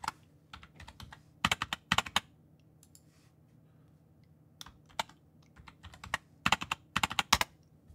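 Password being typed on a computer keyboard, scattered bursts of crisp key clicks with pauses between groups, close and alone with no talk.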